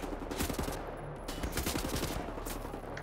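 Rapid, overlapping gunfire in the Wolfenstein: The New Order shooter, with dense bursts of automatic shots crackling continuously and loudly throughout, a sustained fusillade with no talk.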